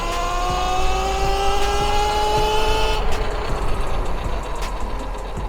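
A Talaria xXx electric motorbike with a speed mod, ridden on a street at full speed, gives a steady rising motor whine that climbs in pitch for three seconds, then cuts off into wind and road noise.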